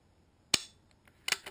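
A rifle is dry fired with no ammunition, giving a crisp, sharp click. A second, softer double click follows about a second later, close and quiet in an otherwise still setting.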